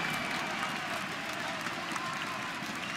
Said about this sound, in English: The crowd's in rapture